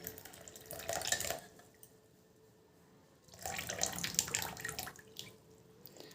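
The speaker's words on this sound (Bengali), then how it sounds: "এবার কিন্তু আমি ছেঁকনির সাহায্যে এই জলটা ছেঁকে নিয়ে নিচ্ছি।" Boiled black cumin water is strained through a sieve into a bowl in two bursts of splashing, trickling pour, close and moderately loud, separated by a quiet pause, with no voices.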